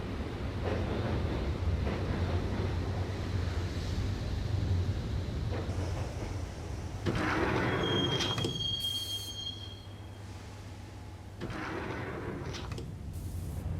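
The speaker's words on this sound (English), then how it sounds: "the train doors had already shut behind me, and I was in for the ride" Subway train ride in the Max Payne PC game: a steady low rumble of cars running on rails, with a high metallic squeal and a door-like slide and thump midway, then a quieter, even roll.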